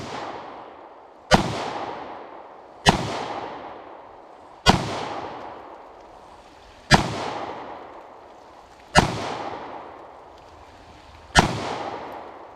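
A Springfield XD-S Mod 2 pistol fires at a pumpkin outdoors: six loud, sharp shots spaced about two seconds apart, each with a decaying echo tail, no talking.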